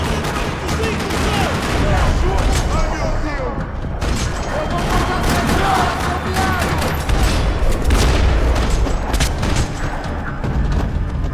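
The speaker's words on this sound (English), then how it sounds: "Another parking lot rattling with gunfire." Sustained gunfire rattles through a parking lot in the video game Max Payne 3, with dense bursts, booms and thuds filling the whole stretch loudly as voices talk over the combat.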